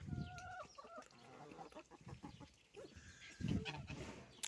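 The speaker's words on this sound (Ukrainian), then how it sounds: "красиві кури." Several chickens cluck and murmur close by in short, uneven bursts, with soft scratching and pecking sounds between calls as they try eating grass.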